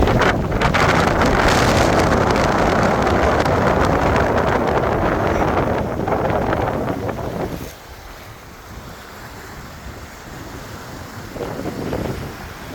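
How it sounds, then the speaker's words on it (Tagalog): Strong wind roars and buffets the microphone on a beach in bad weather, loud and steady, then eases somewhat partway through while still gusting in the background. "Taas ang hangin. Bad weather"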